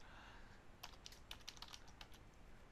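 Rapid keystrokes on a computer keyboard as a password is typed during access-control software setup, a short irregular burst of crisp clicks over a faint steady hiss, close and fairly quiet.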